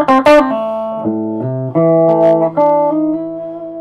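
An electric guitar played through a Marshall plexi combo amp with a touch of distortion rings out alone, close and loud, with a quick strummed chord followed by several sustained, harmonically rich notes and chord changes.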